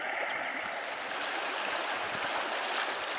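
A small spring brook trout creek flows and burbles steadily, a close, constant wash of running water with no voices.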